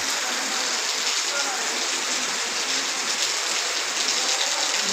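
Heavy rain pours down in a dense, even hiss that holds steady all the way through, with no gaps and nothing breaking through it.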